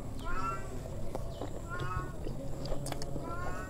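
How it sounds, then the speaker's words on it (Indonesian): A grey cat in heat meows repeatedly indoors, several rising, wavering cries spaced across a few seconds over a low background hum, moderately close. "Ada kucing."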